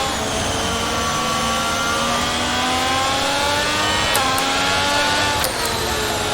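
An F1 race car in the F1 22 video game at a Netherlands event screams at high revs from the cockpit, holding a loud, steady whine that climbs gradually, with brief clicks near the end and no speech.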